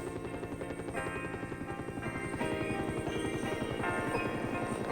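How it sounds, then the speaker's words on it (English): A helicopter bringing food supplies in Greenland thrums with a rapid, steady rotor chop that grows slightly louder partway through, heard alone without talk. "Some food supplies are brought in by helicopter."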